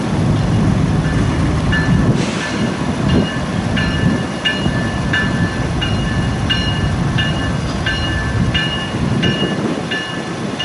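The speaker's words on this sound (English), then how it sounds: "It sounds like we got a train behind me coming." A Union Pacific or BNSF freight train rolls past at a busy rail junction in Fremont, Nebraska, with a steady loud rumble and repeated rhythmic wheel clicks over rail joints continuing throughout.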